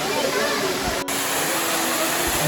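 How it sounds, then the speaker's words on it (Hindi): Tiger Fall waterfall near Chakrata, a dense continuous rushing roar of falling water filling the whole scene, steady and close with a brief dropout in the middle. "ये जो आप वाटरफॉल देख रहे हो"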